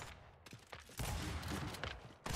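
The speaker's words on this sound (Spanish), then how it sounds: "yo siento que los tiros salen más rápidos en esta update" Pistol gunfire in an Xbox Series X video game beta: a few sharp shots near the start, then a dense burst of rapid fire with no speech.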